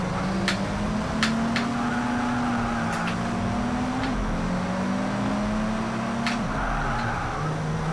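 Car engine in the Project Gotham Racing video game, a steady synthetic engine drone that rises and dips in pitch over several seconds, with sharp ticking clicks scattered across it and no speech.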